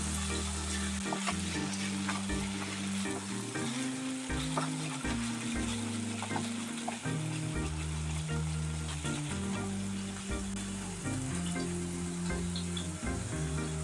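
Salt is stirred into a simmering chicken kurma, a soft, steady sizzle with low bubbling and occasional spoon scrapes, fairly quiet and close with no talking.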